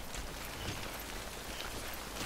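Timefall rain in the video game Death Stranding, a steady, dense hiss of rainfall that holds even and unbroken throughout, with no voices over it.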